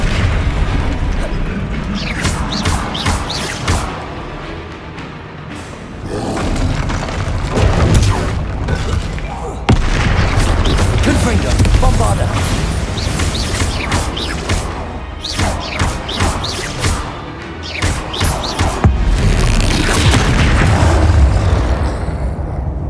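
Loud booming blasts of the Confringo fire spell in the Hogwarts Legacy video game, erupting repeatedly amid a dense, continuous layer of combat sound effects.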